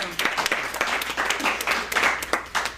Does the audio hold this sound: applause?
yes